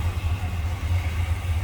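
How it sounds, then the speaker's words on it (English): A 1983 Chevrolet Monte Carlo SS with a V8 engine idles low, its exhaust giving a steady, close, pulsing rumble with no talk over it. "Yeah, I think it's just low idle and exhaust."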